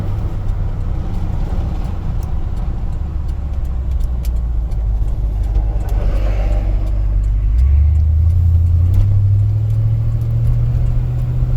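Restored 1977 Ford F100 Ranger pickup with a 202 engine and C4 automatic running, a loud, steady low rumble heard up close that swells slightly toward the end as the revs rise.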